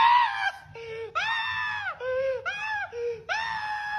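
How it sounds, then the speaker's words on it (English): A man screams in a series of strained, wavering wails, each rising then falling in pitch, broken by short gaps over a low background rumble. "It's just a man screaming."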